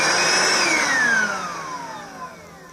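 A Vax cordless vacuum cleaner motor winds down from a high whine, its pitch sliding steadily lower as the airflow noise fades, close and fairly loud with no talking.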